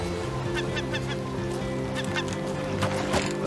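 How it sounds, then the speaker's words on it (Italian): A bird honks and squawks repeatedly in rhythmic calls over a steady, droning game backdrop in Raft, loud and close with no talking. "Lo vedi il gabbiano stronzo?"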